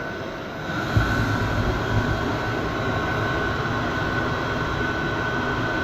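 A heater box blower for a bus conversion runs on the bench, powered from a battery through jumper cables, giving a loud, steady whooshing roar of airflow with a faint whine that holds constant throughout.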